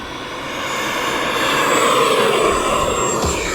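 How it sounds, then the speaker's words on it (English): A jet airplane takes off with full flaps in a steady, loud engine roar that swells as it climbs away. No voices are heard. "I think that's the best sounding jet you have."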